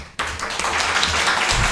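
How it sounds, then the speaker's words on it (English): Audience applause at a university international seminar, a sudden burst of clapping that starts abruptly and holds as a dense, loud wash of hands from the room. "Big applause to Bu Ismi"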